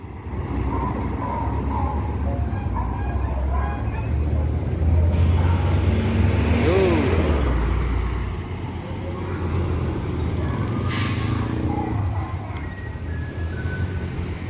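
An NPM Firkasa 86 bus with an automatic transmission drives along, its engine and road noise a steady rumble with passing traffic, and a voice is faintly heard partway through.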